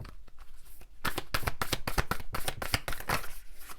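Moonology oracle cards are shuffled by hand up close, a quick series of crisp riffling flutters and soft slaps with short pauses between bursts.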